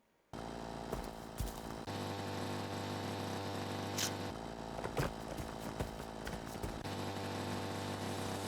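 A chainsaw idles and revs at a campsite during construction work, starting abruptly after a short quiet moment and then running continuously with a steady engine drone and occasional sharper bursts.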